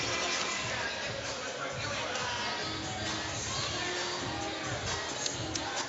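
An indoor arena crowd at an MMA fight event at the Grady Cole Center in Charlotte, North Carolina, murmurs and chatters in a steady, distant babble, with faint calls rising occasionally.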